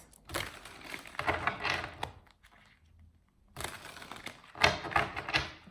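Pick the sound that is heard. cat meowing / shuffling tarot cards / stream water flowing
shuffling tarot cards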